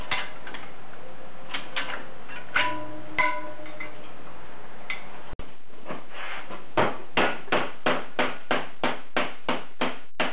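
A hammer strikes sheet metal during floor-pan repair on a 1976 Mazda RX-5 Cosmo, first in irregular knocks, then a sharp crack, then a run of about a dozen evenly spaced metallic blows, close and clear.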